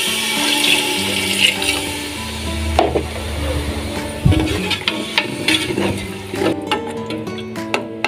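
Water pours steadily into a cooking pot for a rice dish broth, a continuous splashing rush close by with a few clinks and knocks of kitchenware mixed in.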